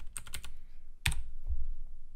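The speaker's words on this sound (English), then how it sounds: "if I could type" Quick keystrokes on a computer keyboard, a few fast light taps followed by a single louder clack, close and clear with no talking.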